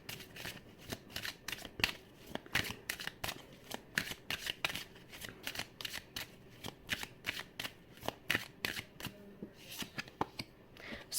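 Tarot cards are shuffled by hand in a quiet room, giving a steady run of soft, crisp riffling snaps and flicks that repeat rhythmically from start to finish, close up with no voice over them.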